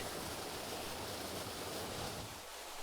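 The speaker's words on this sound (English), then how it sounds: "Neat water feature." Water spills steadily from a fake rock into a mini golf course pond, a constant close splashing rush that fills the whole stretch without pause.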